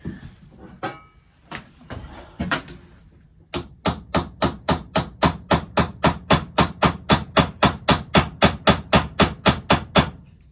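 A knife's loose pivot pin is tapped to tighten it, first a few scattered knocks and handling sounds, then a long run of sharp, evenly spaced metallic taps at a quick steady rhythm.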